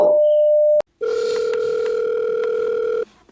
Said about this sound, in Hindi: गफूर भाई, तुम्हारा फोन है यार